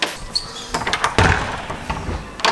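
A locked door at the PortAventura World resort is tried and rattled, giving a quick series of knocks, clunks and a light squeak, close and fairly loud, with no talk.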